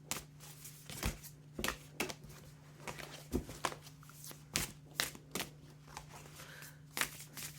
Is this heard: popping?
no